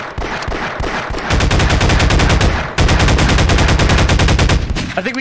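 Rapid sniper gunfire in the VR shooter Half-Life VR, loud sustained bursts of automatic-sounding shots filling the whole clip with barely a pause, no talk over it.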